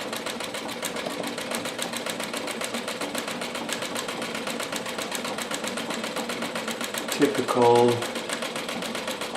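A Royal Brother sewing machine runs under pedal control, its needle clattering in a fast, even rhythm throughout while someone talks over it.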